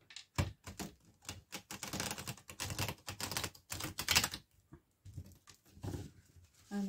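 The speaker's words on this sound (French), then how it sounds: "On va mélanger, on brasse les cartes." Tarot cards are shuffled by hand in rapid, crisp bursts of riffling and flicking, close up, with a short pause before the shuffling starts again.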